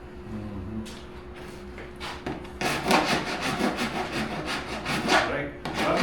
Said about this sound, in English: Rasp back side of that thing.